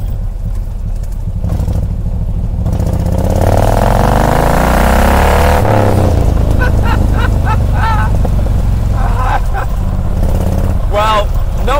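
A Stage 1 Morgan 3 Wheeler's engine revs hard, a loud rising and falling throaty roar heard up close from the car, with someone talking over the latter part.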